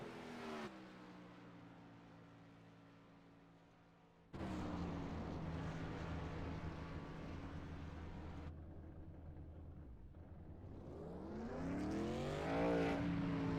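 A race car engine at speed on Darlington in iRacing's Camping World Series, a loud sustained drone that cuts off abruptly, returns, then swells as the engine note rises with acceleration, heard alone without talk.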